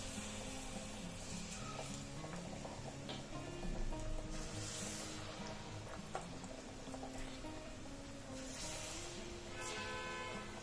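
Batter sizzles steadily in hot refined oil, a continuous soft crackling fry that stays quiet and even throughout, with faint clinks and stirring noises now and then and no talking.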